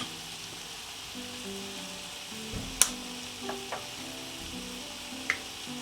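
Chicken seasoned with salt, red pepper flakes, thyme and garlic powder fries in a pan with a low steady sizzle, broken by a few soft scrapes and clinks of stirring.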